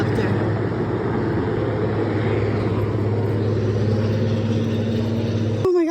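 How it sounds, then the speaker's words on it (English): A helicopter passes overhead on a trail to a waterfall, a steady low rumbling drone under light outdoor noise, holding even throughout before a brief sharp sound at the end. "There's a helicopter."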